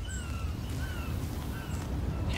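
Crows caw a few times in a row, distant and fairly faint, over a steady low ambient rumble in the video game Life Is Strange.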